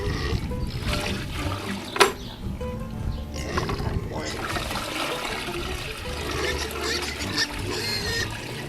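Water runs and splashes steadily into a cup held in a running stream, with a brief sharp clink near the start and a voice speaking over it.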